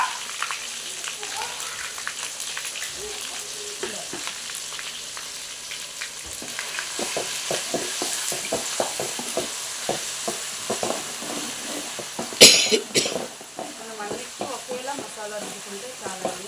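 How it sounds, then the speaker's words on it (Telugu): A spoonful of ginger garlic paste fries and sizzles in a hot pan, with steady crackling and spitting, a sharp burst partway through, and repeated stirring scrapes over the sizzle. "ఇప్పుడు అందులోకి 1 టేబుల్ స్పూన్ అల్లం వెల్లుల్లి పేస్ట్"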